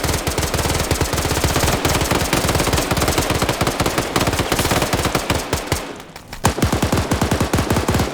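Sustained automatic gunfire in a team-based military shooter match, loud and close with rapid continuous bursts, a brief lull near the end before the firing resumes just as hard.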